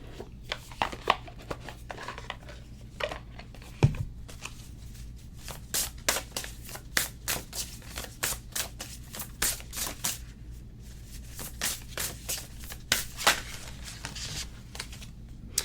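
Oracle cards are shuffled continuously for a long stretch, a quiet stream of crisp flicks and riffles close up, with no talking.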